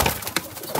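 A racing pigeon perched close by gives short soft coos, with a faint flutter, heard alone.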